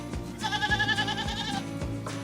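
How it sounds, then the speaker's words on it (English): Goats bleating in a close, loud series of wavering cries, several calls overlapping with short gaps between them, in a rocky, dusty landscape. "Sounds just like home when I hang around goats."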